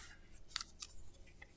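Scissors snipping around a paper collage cutout, a few quick close cuts scattered in an uneven rhythm, one sharper snip standing out, all fairly quiet with no talking.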